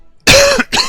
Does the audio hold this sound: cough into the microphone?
yes